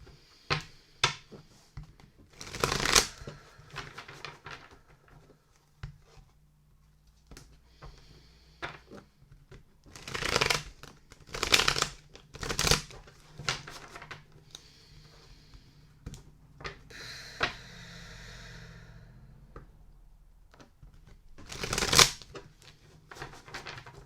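Cards are shuffled by hand in irregular bursts of close riffling and soft snapping, separated by quieter stretches of handling and faint background noise.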